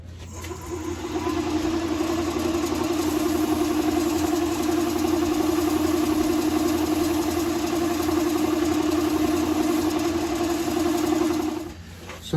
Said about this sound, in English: All right, let me turn the lathe on.